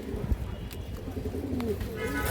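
A female Muslodom pigeon at a pigeon farm gives soft, low cooing calls. The coos are near but fairly quiet, over faint background noise.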